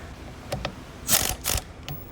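A bolt being tightened down on the steering wheel of a 2015 Nissan Rogue, a few quick close mechanical ratcheting clicks and rasps in short bursts, with no voices.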